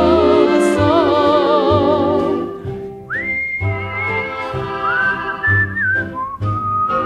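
A person whistles a tune in a song, clear sliding and sustained melodic notes over a soft band accompaniment, close and prominent.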